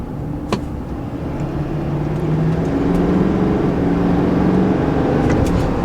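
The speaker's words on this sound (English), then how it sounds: "I'm going to go from 35 and I'm going to go wide open throttle" A truck fitted with Banks boost tubes and a Monster Ram turbo inlet accelerates at wide open throttle from 35 mph. Loud, steady engine and road roar builds as a rising drone climbs in pitch, with no talking.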